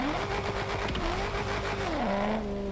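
A car engine from the racing game Need for Speed: World revs hard and close, its pitch climbing, holding, then dropping as it shifts, loud and continuous with no talking.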